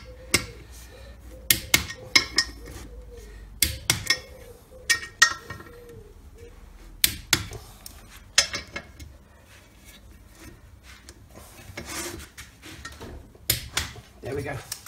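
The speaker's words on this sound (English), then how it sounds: "So that's that bearing now pressed in fully." A bearing is pressed into an Ashcroft ATB centre differential casing: sharp metallic clinks and knocks in irregular bursts, close and fairly quiet, with a person talking now and then.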